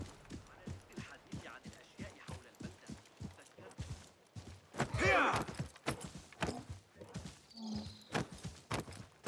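Camel footsteps in Assassin's Creed Mirage, a steady run of soft repeated thuds under continuous talking, with a brief louder whoosh near the middle.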